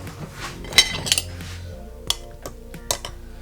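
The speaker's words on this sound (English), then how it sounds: "Now all we have to do is mix it." A spoon clinks and scrapes against a cup while a three-ingredient cappuccino mixture is mixed by hand. The sharp taps come irregularly and close by, over a soft swishing, with no speech.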